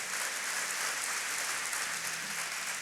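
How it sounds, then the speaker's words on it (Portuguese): A church congregation applauds for Jesus during a sermon, a soft, continuous, distant-sounding patter of many hands clapping in a large hall with no other sound over it. "Pode dar uma salva de palmas para Jesus."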